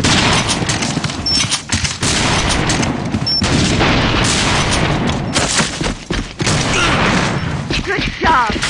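Dense bursts of gunfire crackle through a sniper video game battle, repeated shots and rapid volleys piling up loud and continuous, with voices calling out between them.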